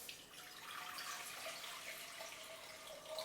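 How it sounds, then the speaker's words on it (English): Water pours into a heavy-bottomed pan, a soft steady splashing hiss lasting the whole stretch, faint and close, with no voices. "Into that you add about 1 cup of water."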